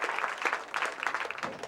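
Crowd at a 1997 bowling World Team Challenge clapping, scattered distinct claps forming a fairly faint, distant round of applause that stays steady for a couple of seconds.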